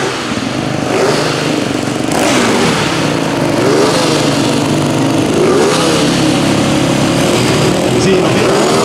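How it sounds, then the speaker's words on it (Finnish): A minicross or supermoto motorcycle engine started and revved at a motor show in Pori: a loud, buzzing engine note that runs continuously, rising and falling with repeated throttle blips. "eiköhän pisteet vehkeen käyntiin ja päästään jätkät lämmittelemään"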